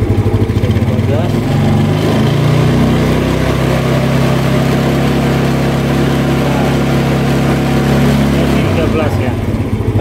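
Indonesian motorcycle with an AC-to-DC charging conversion and all its lights switched on, its engine revved with the throttle, a loud close steady drone that rises and holds, then drops back to idle near the end.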